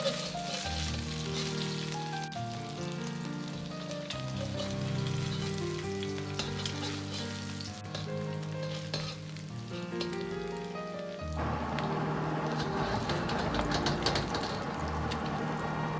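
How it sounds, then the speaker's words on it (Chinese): Eggs frying in oil in a pan over medium heat, cooked until set and lightly golden on both sides; a steady sizzle runs under louder background music throughout. "煎至鸡蛋两面定型， 稍微发黄即可倒出。"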